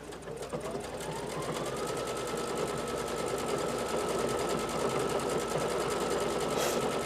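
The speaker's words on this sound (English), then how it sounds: "I'm going to go ahead and stitch." A Brother XP2 sewing machine stitching embroidery runs with a rapid, steady mechanical whir and fine rhythmic ticking, its motor tone rising at the start and then holding level, close and clear.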